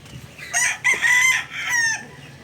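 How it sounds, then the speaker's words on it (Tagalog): A rooster crows loudly once, a long drawn-out call in the open air, with faint clucking from other chickens around it. "May mga manok din dyan."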